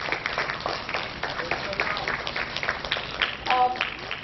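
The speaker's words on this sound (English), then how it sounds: "A huge round of applause for the rest of my team and the organizers who helped make this possible" At a TEDx event at NALSAR, the audience applauds the event team and organizers with steady, moderately loud clapping, with some voices audible underneath.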